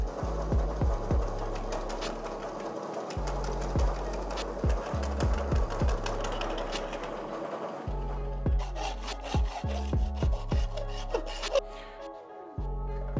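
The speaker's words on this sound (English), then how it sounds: "All I'm doing now is just filing a little bit here and there." A metal body panel for a gullwing car build is hand filed for fit-up, producing a steady run of rough, scraping rasp strokes close by, with thuds between passes and no voices.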